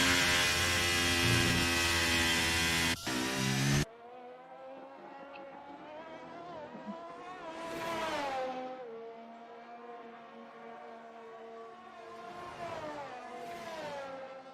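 Race cars in the F1 23 video game, a loud broadband roar for the first few seconds, then a single engine note rising and falling through gear shifts, with two louder passing surges.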